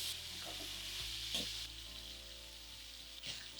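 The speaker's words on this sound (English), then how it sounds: "So we are going to quickly sear some lemons here." Lemons searing in a hot pan give a steady, close sizzle and crackle that carries on evenly throughout, with a few brief stirring bumps.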